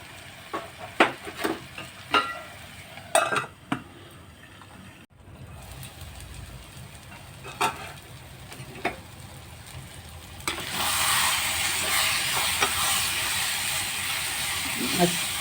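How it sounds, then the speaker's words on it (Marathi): Brinjal bharit cooks in a pan, with scattered spoon clicks and scrapes at first and then a loud, steady steaming sizzle that builds in the last few seconds. "त्याला चांगली वाफ देऊया."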